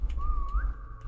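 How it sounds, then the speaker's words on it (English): A single sustained whistle in the Roblox game Jukebox's Tower of Hell (JTOH), a steady pure tone that bends slightly upward near its end, heard over a low rumbling background. "let me whistle at him"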